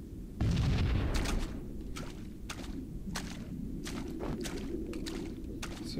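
A grenade blast from the Halo: Combat Evolved video game lands as a sudden loud boom, followed by a sustained rumbling underwater-like ambience with scattered sharp pops and thumps.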